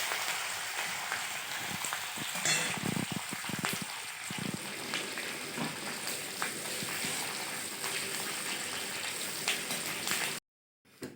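Curry leaves crackle and hiss in hot oil, a steady close sizzle with a brief burst of sharp pops early on, then a sudden stop, after peanuts were fried in the same oil.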